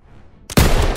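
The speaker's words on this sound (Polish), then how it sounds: "KM-y, otworzyć ogień!" Machine gun fire in the Call of Duty WWII video game erupts suddenly after a near-silent half second, a loud, dense burst of continuous gunfire up close.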